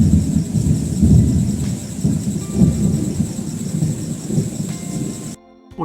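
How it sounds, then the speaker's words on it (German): Thunder rumbles heavily through a thunderstorm with rain, a loud, continuous low roll that swells and fades over several seconds before cutting off abruptly near the end. "bis dann die ersten Blitze über den Himmel zucken und der Donner grollt"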